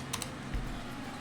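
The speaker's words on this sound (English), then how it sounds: "the way we do that is by typing ADB disconnect" A few quick keystrokes on a computer keyboard as a command is entered, two sharp clicks followed by softer taps over a quiet room hum.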